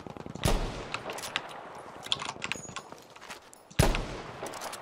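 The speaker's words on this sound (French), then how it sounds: "J'ai mis une balle dans la tête" Gunfire in the video game Battlefield V, with two sharp, loud shots about three seconds apart and quieter crackling battle noise and distant shots running between them.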